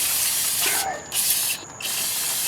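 Brake parts cleaner aerosol hissing loudly up close in two short bursts onto rear drum brakes of a GMC motorhome, with a steady hiss continuing around them.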